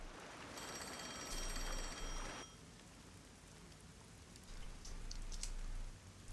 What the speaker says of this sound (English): Oh, the phone. It's a call from the WDO.